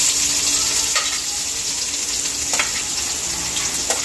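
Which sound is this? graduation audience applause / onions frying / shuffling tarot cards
onions frying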